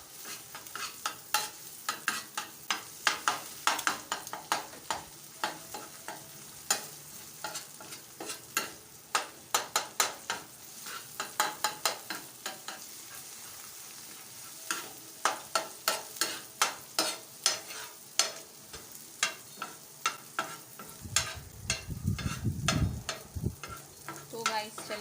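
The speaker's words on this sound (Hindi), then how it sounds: "अंडा शामिल करके इसे अच्छी तरीके से मिक्स करना है।" Egg is stirred and mixed in a frying pan, quiet sizzling under a long run of frequent light scrapes and taps, with a low rumble near the end.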